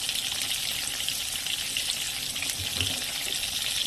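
Eggplant pieces frying in oil in a wok with salt and turmeric, giving a steady, dense sizzle that stays even and fairly close throughout.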